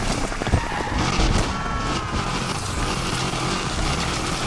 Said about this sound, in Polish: Nie mogę tego słuchać, jak dochodzi do tego rev limitera i automat nie chce wrzucić czwórki